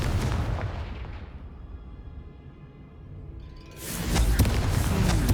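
The Confringo spell in Hogwarts Legacy sets off a loud fiery blast that rumbles and slowly fades, then a second sharp, heavy burst erupts near the end.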